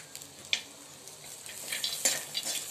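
Onion, garlic, ginger and cashews sautéing in a pan, a low steady sizzle broken by light scraping and clinking strokes of a stirring spoon.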